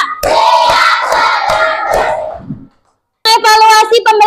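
Fourth-grade schoolchildren clap together in a regular counted beat, a run of crisp, closely spaced claps mixed with shouted chanting, ending abruptly in silence before a teacher starts speaking.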